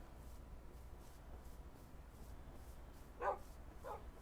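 Tamed wolves in Minecraft give two short, faint barks near the end, heard over a quiet game background.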